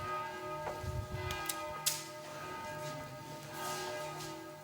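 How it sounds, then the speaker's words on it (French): Monastery church bells at the abbey of Lille ring for the afternoon office, with a few clear strikes over a long, steady ringing hum, fairly distant and heard alone without speech. "Les cloches sonnent."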